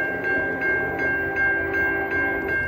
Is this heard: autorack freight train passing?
yes